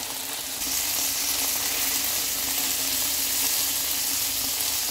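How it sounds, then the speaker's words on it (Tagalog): Chicken frying in a pan for soy glaze chicken: a loud, dense, even sizzle, close and continuous, brightening slightly after the first half second with no talk over it. "Let's fry it for around 2 minutes."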